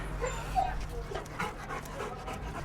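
Dogs meet in a shelter kennel, one of them a Labrador, panting rapidly and whimpering a little at close range, with faint voices in the background.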